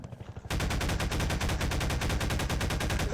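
Rapid automatic gunfire in Garry's Mod, a loud, steady stream of evenly spaced shots after a brief quieter lead-in.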